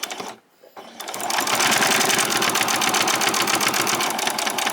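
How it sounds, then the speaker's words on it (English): A sewing machine stitches a back stitch on a summer top, starting after a brief pause and then running in a steady, rapid, close mechanical whir. "And do a little back stitch here"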